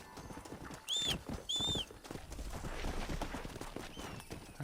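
A horse's hooves clip-clop in a steady rhythmic gait in the video game Red Dead Redemption, close and fairly quiet, with two short high whinny-like calls early on.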